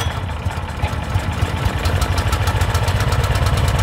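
A Cub Cadet snow blower engine runs steadily just after starting, a loud close chugging drone with a fast even pulse and no talk.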